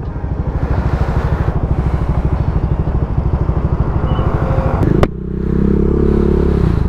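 A Honda eSAF automatic scooter pulls away on a hot day, its engine holding a steady pulsing drone that briefly cuts out with a clatter before settling into a smoother, louder hum as it rides on, close up.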